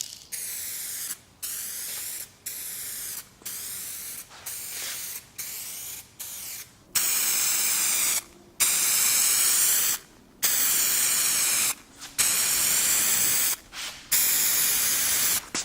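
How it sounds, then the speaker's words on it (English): A spray gun lays clear coat over a car panel whose old clear coat is badly damaged and peeling, in a series of close, even hissing bursts of about one to two seconds each, separated by brief silent gaps. "you are spraying clear coat on a panel that has hardly any clear coat left"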